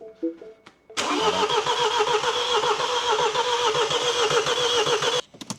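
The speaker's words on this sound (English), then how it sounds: "I don't think it's starting, Timothy." A long-dead classic Mini's engine cranks over with a steady, loud churning that runs for about four seconds without catching, then cuts off abruptly; no one speaks over it.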